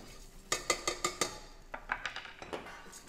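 Rice toasts in a very hot pan for risotto, with a spoon scraping and tapping against the metal in quick bursts of clinks and stirring scrapes, close and fairly quiet, with no talking.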